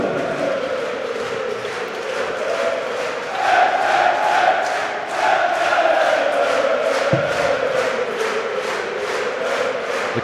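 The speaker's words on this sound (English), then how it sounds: "The crowd finding their voices." Darts tournament crowd in Halle 39, Hildesheim, at the PDC German Darts Championship: a loud, sustained roar of cheering and chanting voices filling the hall, swelling midway and continuing without a break.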